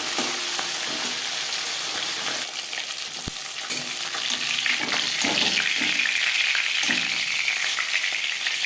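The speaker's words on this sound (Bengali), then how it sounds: "মাছ ভাজা হয়ে গেছে।" Tilapia fish fries in hot oil with a steady, dense sizzle throughout, close and constant, with a few light stirring or turning sounds partway through.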